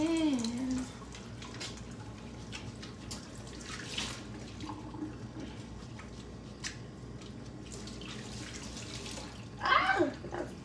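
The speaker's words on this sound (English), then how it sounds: "Time to wash your hands with that Dawn." Hands washed with Dawn soap under a running kitchen tap, a steady close splash of water throughout with a short louder burst of splashing near the end.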